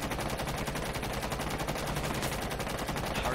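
A light machine gun in Rainbow Six Siege emptying a whole magazine in one long, rapid, steady burst of loud shots.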